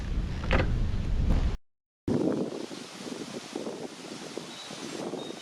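Gusty wind blowing outdoors at a campsite with a caravan set up as a windbreak, a steady broadband roar buffeting the microphone, with a brief dropout partway through.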